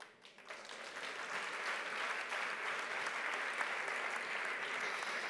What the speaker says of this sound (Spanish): crec que us demano que fem un aplaudiment.